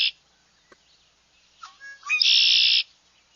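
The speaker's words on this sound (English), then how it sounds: "Got the conqueree and the see call." Male red-winged blackbird calling: a sharp high see note at the start, then a gurgling conqueree song ending in a bright, buzzy trill, clear and close with no talk.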